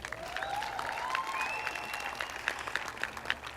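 A graduation audience applauds and cheers, a steady wash of clapping hands with scattered whoops and whistles rising above it throughout.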